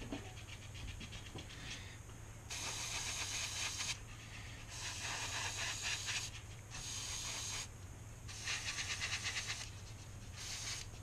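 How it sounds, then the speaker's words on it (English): Airbrush spritzing paint onto a trout fishing bait, short bursts of steady close hissing alternating with pauses over a low constant compressor hum. "just spritz a little of that color on the back end"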